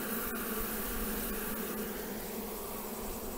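Honeybees drone at an open beehive in a thick, continuous buzz of many wings. The sound is close and steady throughout, with a few louder passes as single bees fly near.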